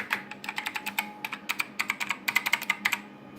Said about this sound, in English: These are the rare, infamous white Alps switches.